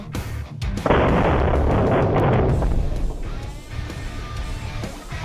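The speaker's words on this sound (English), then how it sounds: "a couple of shots with the AK-50 in high speed" AK-50 rifle firing with a new muzzle brake: a single massive, booming report that erupts and then rolls into a long, loud, broadband rumble and blast echo, very close, with no talk.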